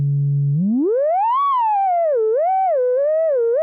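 A pure, whistling tone from a Korg MS-20 FS synthesizer's self-oscillating filter starts low and steady, glides sharply upward, then wavers and swoops up and down in smooth, siren-like bends.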